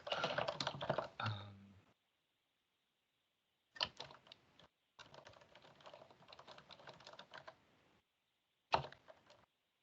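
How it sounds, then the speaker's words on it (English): Quick bursts of typing on a computer keyboard during a flood planning subcommittee meeting, clattering keystrokes in several separate runs with pauses of silence between them, close and fairly quiet. "I'm just typing it up really quick."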